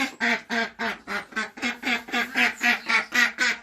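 A broody Pekin duck quacks repeatedly just off its nest, a loud, close series of about a dozen evenly spaced nasal quacks in a steady rhythm, with no talking.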